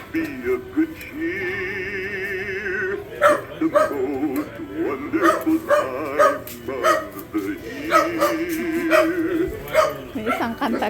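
A dog barks and yips in short repeated bursts over Christmas music and people talking and laughing.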